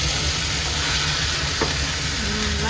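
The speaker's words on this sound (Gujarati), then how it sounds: "હવે મમ્મી મિક્સ કરશે બધું." Food frying in a pan as a mother mixes it, a dense continuous sizzle and hiss with a faint scrape partway through, close and steady with no speech.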